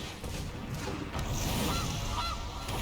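Cartoonish goose honks from a Gilded Goose card in the MTG Arena digital card game, a couple of bright honk calls over a dense, loud game sound layer with no talking.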